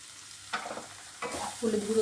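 Turmeric powder is stirred into a pan of frying egg do pyaza, a soft close sizzle with two scraping stirs and a brief louder hiss at the end.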